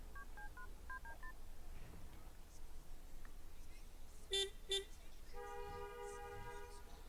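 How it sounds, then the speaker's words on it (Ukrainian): Telephone being dialed in The Sims 3 video game, a quick run of keypad tones at the start, later two short beeps and a sustained ringing tone, all faint over low background noise. "поговоримо по телефону"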